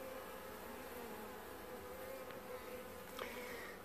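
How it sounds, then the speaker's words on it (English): Honeybees buzz faintly and continuously during a bee removal at a mobile home, a steady droning hum with a few individual bees flying close by near the end. "I'm about to dump the vacuum bees into the hive"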